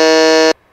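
A quiz show buzzer gives one loud, steady electronic tone of about half a second, then cuts off abruptly into near silence.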